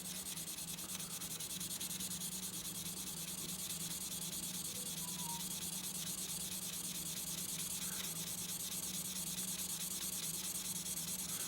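A Demko AD20S knife blade is polished by hand, a continuous soft rubbing and sanding hiss with steady back-and-forth strokes, close and quiet without any voice.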